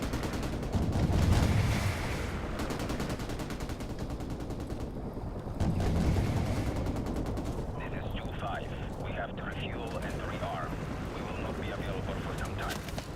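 Continuous rattling gunfire and explosive bursts in Call of Duty 4: Modern Warfare Remastered on PC, dense and loud throughout, with a voice faintly mixed in.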